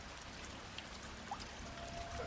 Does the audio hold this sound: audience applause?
no